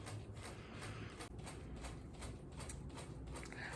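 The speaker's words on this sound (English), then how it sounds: "So sorry about the fan" A fan runs through a crochet session as a steady, fairly loud broadband whoosh with faint rhythmic flutter, continuous and unbroken with no voices.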